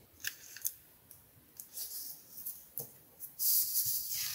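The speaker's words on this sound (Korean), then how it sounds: "얘를 가위로 가운데로 자르려면 조금 띄워놔야 되는데." Scissors snip through a sticker during diary decorating, making quiet, close, scattered cuts and light crinkles. The sound ends in a louder, sustained scraping snip, with no voices.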